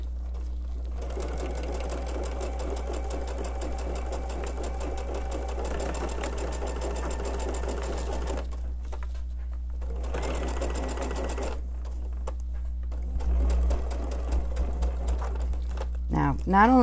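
A sewing machine stitches a star sampler quilt block in a steady close rattle through most of the stretch, stopping briefly between runs, while a person talks over it.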